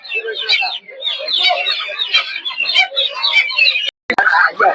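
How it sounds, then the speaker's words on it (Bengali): Chickens at a village poultry market in Narsingdi, Bangladesh, cluck and squawk in a dense, continuous chorus close by, mixed with market chatter and voices throughout. "দেখতে পাচ্ছেন ডিম পাড়া মুরগি এগুলো।"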